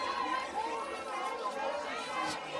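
A dense crowd chatters and murmurs at a college softball game between Oklahoma and Tennessee, a steady wash of many voices filling the background throughout.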